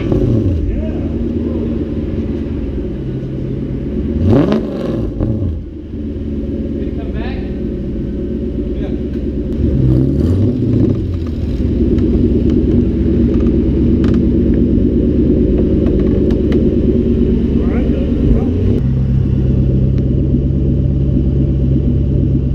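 A Nissan S13's engine drones steadily from inside the cabin through a new, quiet exhaust, a low, even rumble that shifts pitch as the car accelerates and changes gear.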